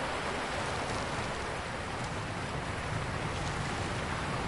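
Waterfalls in the Lonely Mountains: Downhill video game, a steady, even rush of falling water, close and constant with no pauses and no voices.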